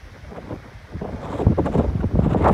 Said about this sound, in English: Got a strong south wind.